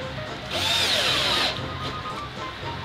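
A power drill drives black self-tapping screws with sharp threads, no pilot hole, while an aluminium double door frame with insect screen is fitted; a steady whirring burst runs about one second, then fades with lighter handling noises.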